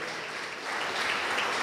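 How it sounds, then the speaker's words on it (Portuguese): Church congregation applauding together at the close of a Sunday service, a steady, dense wash of clapping that swells slightly louder partway through and continues without talk. "Vamos encerrar aplaudindo o Senhor Jesus"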